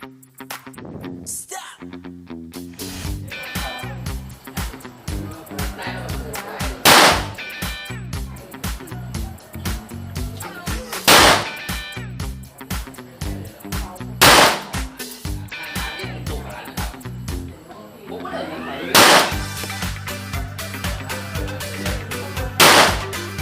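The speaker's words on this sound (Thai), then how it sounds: "ครับยิงไปสิบนัดนะฮะ ก็ได้กลุ่มประมาณนี้นะครับระยะสิบเมตร" Five loud, sharp reports from a custom-built STI Grand Legend 2011 pistol fired at a 10-metre range, spaced several seconds apart over a busy, continuous background.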